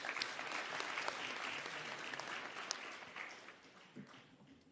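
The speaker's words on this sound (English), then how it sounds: "Can we please give him a huge round of applause?" An audience at the Africa Youth in Tourism Innovation Summit 2023 gives sustained applause, a dense wash of clapping that holds steady and then slowly tapers off.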